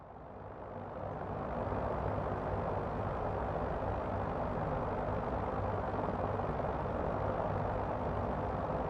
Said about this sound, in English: That's a nice steady helicopter with loads of visibility